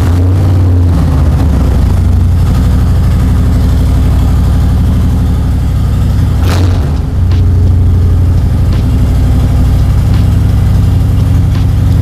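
Harley-Davidson Road Glide Special with an M8 engine, running as a loud, steady low rumble close by that holds throughout with only a slight dip midway, no voices.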